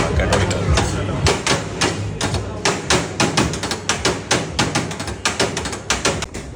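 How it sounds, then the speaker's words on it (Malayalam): Shawarma is chopped on a tray at a Kozhikode food street stall, the knife striking in fast, rhythmic knocks like drumming, loud and close, with voices in the background. "ആ ഷവർമ അങ്ങോട്ട് അരിഞ്ഞിരുന്നിട്ട് ആ ട്രേയിൽ വെച്ചിട്ട് ഒരു കൊത്തുണ്ട് കേട്ടോ"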